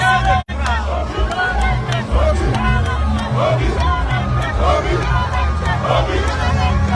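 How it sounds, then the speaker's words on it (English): A large crowd at a political campaign rally in Enugu fills the air with dense, continuous babble and overlapping shouts. The crowd sounds close and lively, with several voices rising above the general hubbub. "The crowd is much. The crowd is much."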